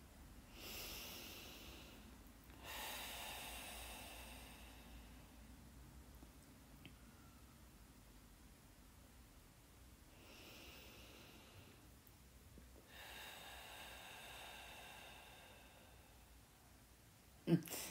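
Slow, deep breathing during a guided heart-healing meditation: soft, drawn-out inhales and exhales that rise and fade in long cycles, quiet and close, ending with a brief sharp sound.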